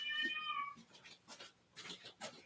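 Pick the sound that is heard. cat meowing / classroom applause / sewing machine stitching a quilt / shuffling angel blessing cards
cat meowing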